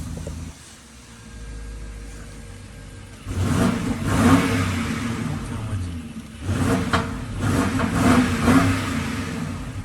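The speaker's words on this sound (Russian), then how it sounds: "Давайте послушаем, какой у него выхлоп." A BMW M6 in sport mode revs its exhaust in two loud bursts after a quiet idle, rumbling close by with a voice speaking in the background.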